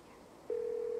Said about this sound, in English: You pull out your phone and you dial your cousin